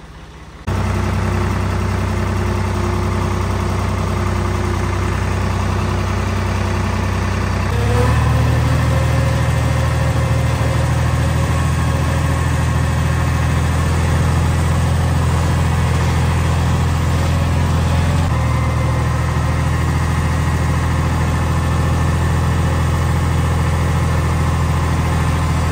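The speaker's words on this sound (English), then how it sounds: "So on the way back to the house, we're gonna need the tractor for some projects there at home. So we're taking the tractor home with us." Steady, loud engine drone of a tractor being driven home, a continuous low rumble that shifts pitch slightly a few times, with no talk.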